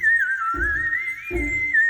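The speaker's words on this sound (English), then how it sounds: "That's the song of a night bird, the nightingale." A nightingale sings in a continuous, close, clear whistled line throughout, with two short low thumping sounds occurring beneath it.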